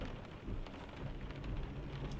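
Light rain patters on a big truck's cab, heard from inside as a faint, steady hiss with soft scattered taps and low rumble, continuous and without talk.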